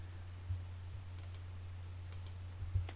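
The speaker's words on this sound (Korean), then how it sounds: "Alt 클릭해서 축소하겠습니다" A few sharp, faint mouse clicks come from Alt-clicking to zoom out in Photoshop 2023, scattered singly and in a quick pair over a low steady hum.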